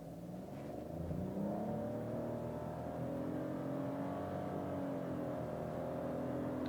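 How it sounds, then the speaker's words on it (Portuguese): A Peugeot 208 1.0 Turbo in sport mode pulls away hard from a standstill, its engine note rising steadily and holding a loud, continuous drone heard from inside the cabin with no talk. "Largadinha estolada, acelera e saindo."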